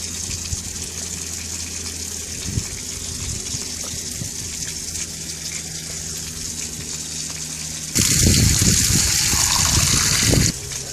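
A cartoon character urinates into a container over faint background hum, with a steady liquid stream that starts abruptly, gushes loudly for a few seconds and then stops.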